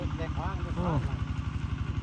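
A tractor engine running at a tractor-pulling event in Ban Muang Kham, a loud rhythmic low chugging that pulses steadily, with excited voices shouting over it.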